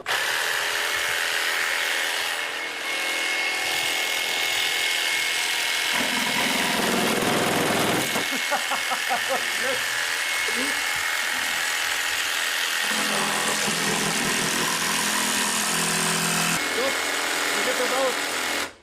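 A saw cuts along a marked line while a bicycle is being built, its strokes rasping and buzzing close by as people talk over much of it.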